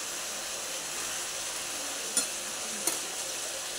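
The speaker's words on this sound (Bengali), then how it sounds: "আলুটার একবার তলা থেকে ভালোভাবে নেড়ে দিলাম" Potatoes frying in a pan give a soft, steady sizzle and hiss, with two brief scrapes from stirring. The cooking is faint and fairly distant.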